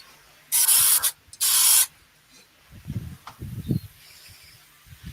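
Two loud hissing bursts from a spray paint can applying coats of paint, about a second each and close, followed by quieter shuffling and handling noises.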